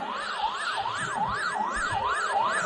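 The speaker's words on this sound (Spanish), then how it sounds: "¿Escucha la sirena del peligro inminente?" A wailing danger-warning siren in a flight simulator rises and falls in steady repeating sweeps, loud and continuous with no voices over it, sounding much like an emergency-vehicle siren.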